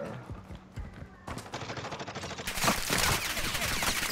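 Gunfire from Call of Duty: Modern Warfare II, rapid bursts of automatic shots that start sparse, then thicken into a dense, loud volley near the end.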